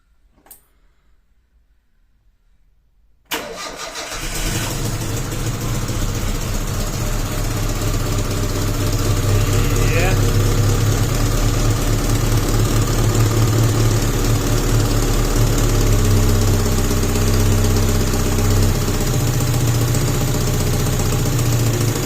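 A petrol engine set to run on gasoline cranks and catches after a few seconds of near silence, then settles into a steady, loud idle with a low rumble and ticking that continues to the end.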